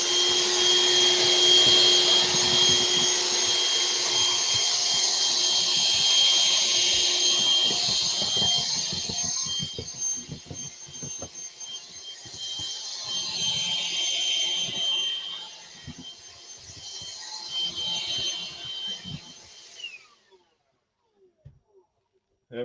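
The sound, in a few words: Hoover vacuum cleaner running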